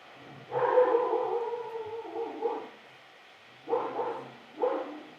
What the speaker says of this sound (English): We have coyotes in the back. And the dogs are not happy.